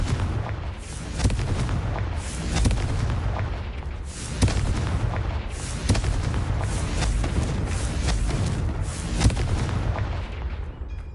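Confringo fire spell blasts cast in Hogwarts Legacy on PS5: several loud, close booming bursts land a second or two apart over a continuous low, rumbling roar, with no voices.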